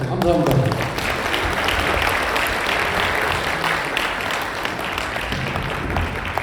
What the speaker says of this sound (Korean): 자, 수고해주신 박돈신 직전회장님께 다시 한번 감사 박수를 부탁드리겠습니다.